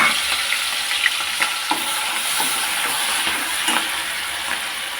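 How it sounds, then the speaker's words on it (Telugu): Green chilli pieces, ginger, garlic and garam masala frying in oil for a Bhimavaram-style gorakala fish pickle, a steady close sizzle with occasional stirring scrapes, with no voices. "ఇది దోరగా వేగనివ్వాలి."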